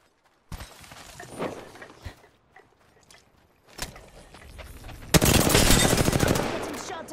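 Rapid gunfire in the video game Apex Legends hits the player, starting as scattered bursts and swelling into a loud, dense barrage of shots and impacts near the end.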